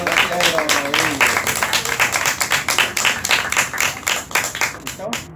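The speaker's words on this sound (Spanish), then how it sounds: "Foto y un aplauso para el doctor Pedro Rodríguez." An audience at a closing ceremony for an environment week in Tuxpan claps for an honoree, close and loud with a pulsing rhythm, while voices talk over the clapping at the start.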